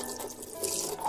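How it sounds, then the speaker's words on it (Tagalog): Running tap water splashes over leaves being washed, moringa and sambong for an herbal remedy, a soft, close, continuous trickle with no voices. "Hugasan muna natin"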